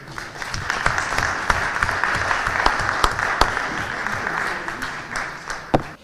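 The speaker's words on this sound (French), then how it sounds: "Boosté par cette salve d'applaudissements" Applause from an audience at a cultural event for book publications, steady dense clapping that holds for about six seconds with a few sharp louder claps standing out, then tapers near the end.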